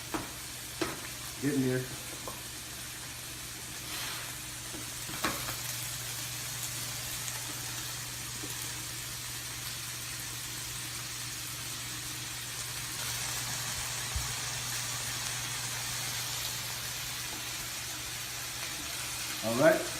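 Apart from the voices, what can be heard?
French toast frying in a pan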